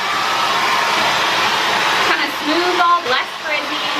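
Hair dryer blowing hot air while blow-drying hair back, a steady close, loud whoosh throughout, with brief talking over it toward the end.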